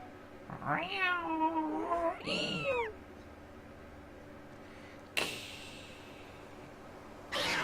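Several drawn-out meows from a cat in the video game The Legend of Zelda: Skyward Sword, wavering and loud for about two seconds, then one shorter cry, followed by quieter game noise with a couple of soft whooshes.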